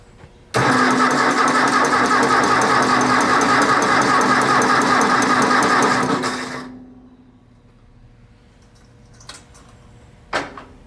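A 1964 Ford 4000 row-crop tractor engine cranks steadily on the starter without firing, a loud, even, rapid churning that runs about six seconds, then stops, leaving near quiet with a couple of faint knocks afterward.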